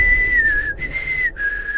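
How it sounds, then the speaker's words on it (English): Steady, clear whistled tone added by a mod in the Morrowind video game, holding one pitch with slight dips, loud and close, alone without talk. "whatever mod puts that whistle in, I want it out"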